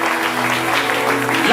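Sustained applause from a church congregation at a Sunday service, a steady wash of clapping heard alone throughout.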